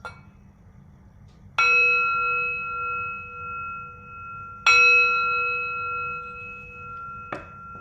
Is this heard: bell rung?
yes